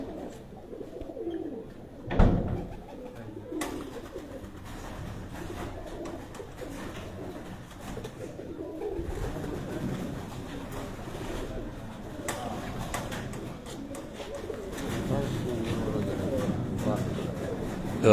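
Pigeons coo softly and repeatedly nearby, low throaty calls rising and falling amid rustling and handling noises as the birds are held, with occasional voices.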